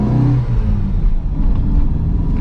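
Low, steady engine rumble of a 1985 Ford Fiesta Mk2 1.1 heard from inside while driving, a continuous droning hum with slight fluctuations and no talking.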